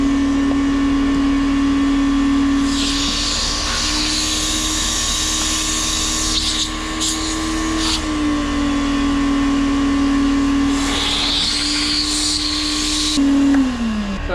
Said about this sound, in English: Hopefully we can just use a shop vac and get everything sucked out